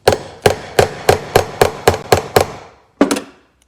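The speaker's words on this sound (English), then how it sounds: "take a little hammer. This is called the chasing hammer" A small chasing hammer taps a rivet on a TJet slot-car chassis, eight sharp, evenly spaced metallic strikes, then a short pause and one final tap, close and loud with no talking.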